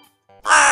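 A crow gives a single loud, harsh caw at close range, cut off abruptly after a brief quiet moment.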